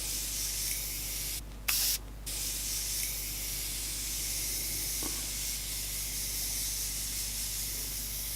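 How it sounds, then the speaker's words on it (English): Two short bursts of fine makeup setting spray mist, close by, over a steady background hiss. "I'm gonna spray some of this."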